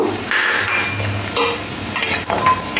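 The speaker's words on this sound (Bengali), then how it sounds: "গরম তেলের মধ্যে কয়েকটা বড়ি একটু লাল করে ভেজে নেব।" Lentil dumplings (bori) sizzle in very hot oil in a pan, a steady close frying hiss with a few light stirring scrapes and clinks of a utensil against the pan.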